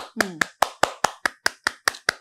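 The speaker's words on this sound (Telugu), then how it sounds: "ఇలా ఇలా ఇలా ఇలా చప్పట్లు కొట్టేసి" About ten sharp, close hand claps in a steady, even rhythm, loud and distinct, with a short burst of speech over the first couple of claps.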